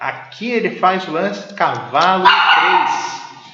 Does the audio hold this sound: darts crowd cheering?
no